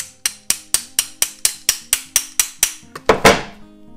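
A shifter wrench taps on an oil tank sensor connector in a steady run of about a dozen sharp metallic knocks, evenly spaced and close, ending in a louder, longer clatter.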